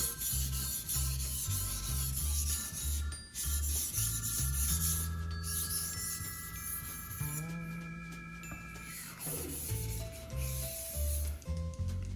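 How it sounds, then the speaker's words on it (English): A knife blade stroked flat across a sharpening stone with light pressure, giving a steady, repeated rubbing rasp over about twelve seconds, with music playing underneath. "we don't wipe this while we sharpen knives, because this is what is actually sharpening the blade"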